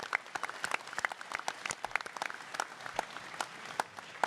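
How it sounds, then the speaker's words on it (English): A sparse round of applause from a small panel audience at a gun convention, individual claps standing out as distinct, uneven snaps rather than a dense roar, moderately quiet. "Let's give a big round of applause to everybody that's out there watching, sitting right here."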